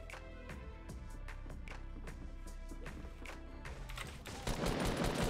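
Rapid bursts of gunfire from a Fortnite match, dense repeated shots hammering in quick rhythm with a heavier loud blast near the end, close and prominent without talk.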